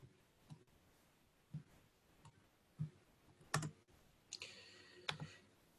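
Someone types a title on a computer keyboard in a quiet room, producing sparse, irregular clicks with short pauses between bursts of keystrokes.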